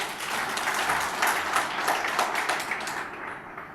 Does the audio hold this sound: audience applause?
yes